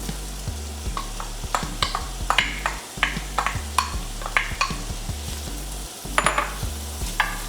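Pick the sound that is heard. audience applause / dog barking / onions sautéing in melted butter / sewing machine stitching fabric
onions sautéing in melted butter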